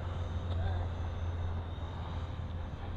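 E-flite F-16 RC model jet taking off, a steady electric ducted-fan whine and airy roar held at an even level, with a person's voice heard faintly under it.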